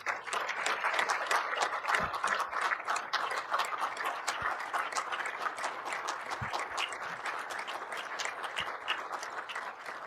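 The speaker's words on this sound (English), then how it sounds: "members of council again, big round of applause" Council members applauding at a regional council meeting, a steady sustained round of clapping lasting several seconds, moderately quiet and even.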